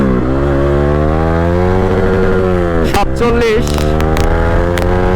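A motorcycle runs in first gear, its engine a loud, steady, harmonic drone that climbs slightly in pitch, with a voice speaking briefly partway through.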